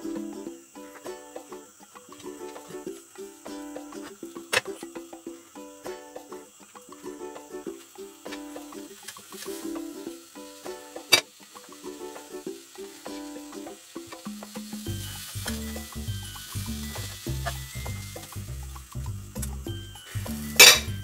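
Croque monsieur toasts cook in a frying pan with clinking and scraping of utensils against the pan over a low sizzle. A deeper, rhythmic rumbling joins toward the end, ending in a sharp metallic clatter.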